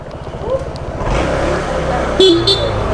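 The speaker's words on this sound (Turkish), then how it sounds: "Korna." Street traffic rumbles while a car horn gives a short honk near the end, with people talking nearby.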